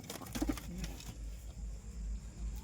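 A sick pigeon with an injured leg gives a soft, low coo early on, faint and close, over steady background hum with no other clear calls.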